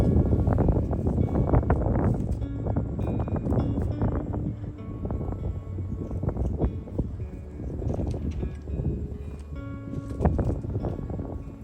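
Strong gusty wind buffets the microphone at a camp in Los Padres National Forest, a loud rumbling roar that surges and eases, with rustling and occasional knocks mixed in.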